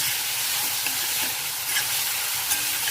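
Beet greens stir-fried over high gas in a pan, a loud continuous broadband sizzle with occasional stirring scrapes and small crackles, close up, with no talking.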